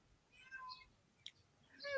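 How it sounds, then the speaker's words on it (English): A house cat meows a few times, a thin wavering cry rising in pitch toward the end, fairly quiet against the background, with a faint click in the middle. "Your kitty cat's going off."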